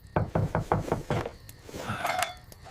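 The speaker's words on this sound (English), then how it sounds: "Who could be knocking at my wooden gate at this late hour?" Someone knocks on a wooden gate at night, about five firm, evenly spaced raps close by, followed by a brief pause and some fainter sounds.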